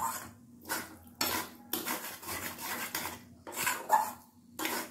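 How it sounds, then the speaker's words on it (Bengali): Mashed paneer is stirred in a pan for a pure vegetarian Bengali curry, giving repeated bursts of scraping and clinking from a utensil against the metal, close and fairly loud, with short pauses between strokes. "পনিরটাকে দিয়েও ভালো করে একটু কষিয়ে নিচ্ছি যাতে পনিরটা একটু হালকা হালকা ভাজা হয়ে যায়"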